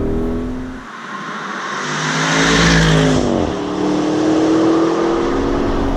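A 2020 Porsche Cayenne Turbo S E-Hybrid Coupe accelerates hard, its engine note rising in pitch through a gear change, loud and close with road and wind roar, no talking.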